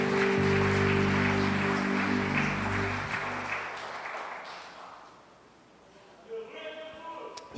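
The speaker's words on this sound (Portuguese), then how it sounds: "E você aplauda o Senhor nessa noite bem forte," Congregation claps during an evening evangelical service, the broad clapping over sustained music that fades after a few seconds, leaving a quieter tail with a voice entering near the end.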